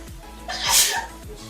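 A single loud, close sneeze bursts out in the middle of a quiet room, with a faint low hum underneath.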